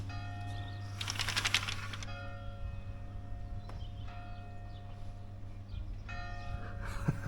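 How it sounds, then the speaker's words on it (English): Church bells ring out over a rural property in the Abruzzo region of Italy, a burst of bright clangs early on followed by quieter distant strikes, heard indoors over a low steady hum. "We are blessed with the bells, with the church bells of Italy."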